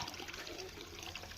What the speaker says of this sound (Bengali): জল ভরে নিয়ে যাচ্ছে দেখো